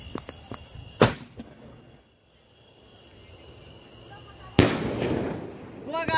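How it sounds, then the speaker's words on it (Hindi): A sharp, loud sky shot firework bang, then a second burst a few seconds later with crackling and hiss trailing off, amid background voices. "जितना बड़ा स्काई शॉट वैसा ही धमाका देखने को मिला"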